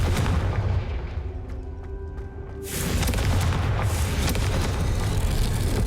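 A Confringo fire spell goes off in Hogwarts Legacy, a loud booming blast that swells around the three-second mark and then rolls on as a dense rumble over steady game ambience.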